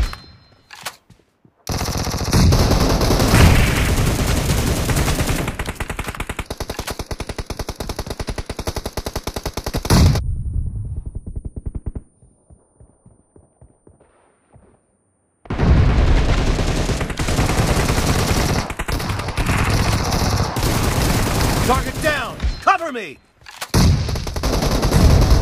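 Automatic gunfire in PUBG Mobile team deathmatch, with a M762 rifle among the weapons, rattles in long dense loud bursts, breaks off for a few quiet seconds, then resumes, with short game voice callouts over the shooting.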